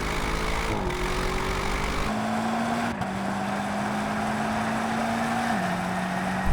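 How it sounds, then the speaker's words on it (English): Audi RS7, BMW M8 and Mercedes-AMG GT 63 S engines drone under hard acceleration in a rolling drag race from second gear at 30 mph, a steady roar with tones rising and stepping at gear changes. "let's do a rolling race from second gear at 30 miles an hour"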